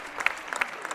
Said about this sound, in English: they get a round of applause from the home crowd